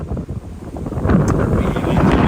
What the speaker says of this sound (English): Oh, super windy.